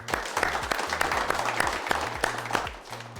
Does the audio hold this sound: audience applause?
yes